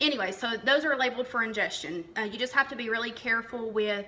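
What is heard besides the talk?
No everyday noises stand out.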